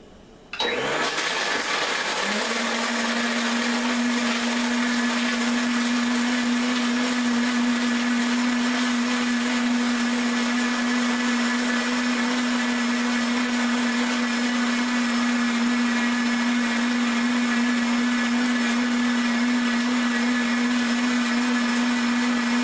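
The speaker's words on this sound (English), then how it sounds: "We'll start with the Omni 5 and work our way across." An Omni 5 blender starts with a short rise, then runs at a constant loud whirring motor whine for about twenty seconds, heard close and alone.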